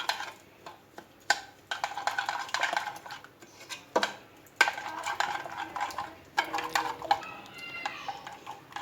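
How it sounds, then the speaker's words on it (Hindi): Metal spoon scraping and clinking in a bowl as yogurt is stirred with ground spices, including cumin, in a kitchen; irregular close taps and scrapes with short pauses, no talking. "अब एक बाउल में मैं दही डाल दूंगी और ये सारे मसाले डालकर इसको अच्छी तरह से मिक्स कर लूँगी"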